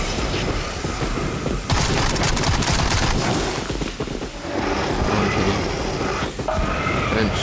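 Dense, continuous gunfire fills a round of the video game Sker Ritual, with rapid overlapping shots and booms that stay loud throughout and never let up.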